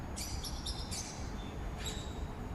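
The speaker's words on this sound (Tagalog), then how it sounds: "Maririnig mo lang is mga huni ng ibon." Small birds chirp in a garden, with a few quick, high tweets repeated in short bursts over a steady background hiss.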